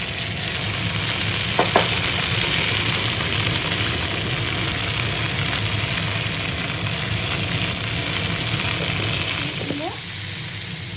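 Spice paste frying in a pan for Bengali katla fish curry, a steady loud hiss and crackle of oil running without pause, with a couple of faint clinks and brief background sounds.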